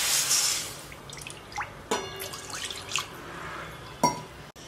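Water pours into a kadhai pan with a brief hissing splash at first, then sparse drips and small clinks against the metal, all fairly quiet.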